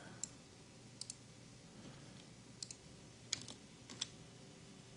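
Quiet, scattered computer mouse and keyboard clicks while modeling in 3ds Max, a few isolated sharp clicks spaced over a faint room hum.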